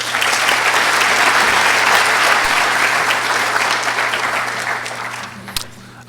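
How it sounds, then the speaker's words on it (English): Loud, sustained audience applause at an air navigation modernization conference panel, a full room clapping steadily before the sound gradually thins and fades toward the end. "Please give them a big round of applause."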